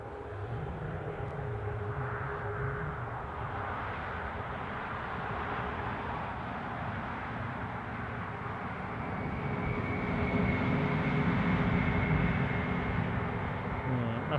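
A Loganair aircraft's engines hum steadily at Newcastle airport as it begins to taxi, with a low droning rumble and a rising tone that grows slightly louder near the end.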